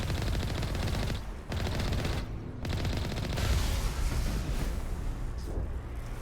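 Sustained automatic gunfire in the Mass Effect video game: dense rapid bursts of shots with brief gaps between them, loud and close, going on without any talking.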